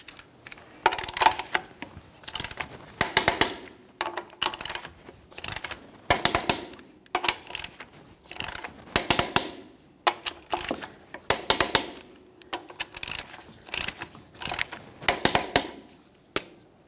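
Torque wrench tightening lug nuts on a 1998-2002 Lincoln Navigator rear wheel, a series of repeated sharp metallic ratcheting clicks in separate bursts with short pauses between them, close and fairly loud.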